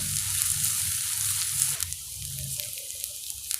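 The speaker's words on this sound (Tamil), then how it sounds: "வெங்காயம் நல்லா வதங்கியாச்சுங்க." Onions sauté in a pan with curry leaves, making a moderate sizzle with soft stirring noises. The frying quiets partway through, and a few light clicks follow.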